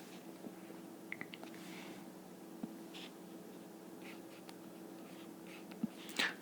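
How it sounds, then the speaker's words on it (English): Pen strokes scratch softly across paper as a related-rates math example is worked out, faint and close, with small irregular taps and scrapes and no talking. "let's write that down"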